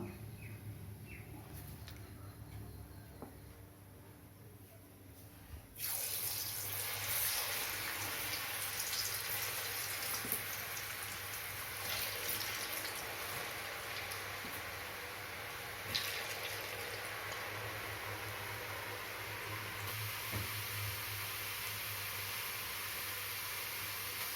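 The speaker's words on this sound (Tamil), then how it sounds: "எண்ணெயில் போட்டு வறுத்துக்கலாம்" Potato finger chips deep frying in oil at home, a steady hissing sizzle that jumps louder as a fresh batch goes in and then carries on evenly, with faint clinks now and then.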